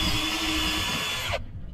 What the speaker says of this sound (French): je prends ma perceuse avec un forêt